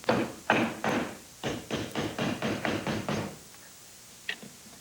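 Hammer blows drive nails into a wooden garage door jamb during a door installation, about nine sharp, evenly spaced knocks close by, then a pause and one lighter tap.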